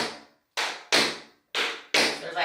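Tap shoes strike a hard floor in a quick leap, shuffle, stomp pattern, each sharp bright tap decaying fast, heard as four distinct close hits with short gaps between them, no talking.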